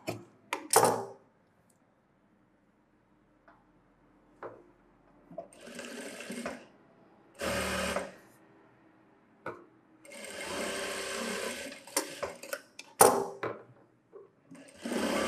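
Sewing machine stitching the hook strip of a model blouse, a single layer of cloth run through in several short separate bursts with quiet pauses between them, close and fairly loud.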